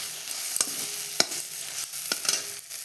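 Tomato masala fries in oil for an egg curry while a spatula scrapes and taps the pan in irregular sharp strokes over a soft, fairly quiet sizzle.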